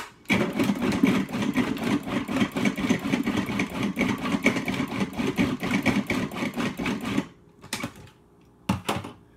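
A food processor pulses carrots and other vegetables for an enchilada filling, giving a loud, dense motor whir with rattling chops that runs about seven seconds, stops, then returns in two short bursts.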